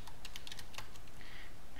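Quick, light clicks of fingers typing on a computer keyboard come in an irregular burst, then pause before a few more taps, close but soft over a faint room hiss.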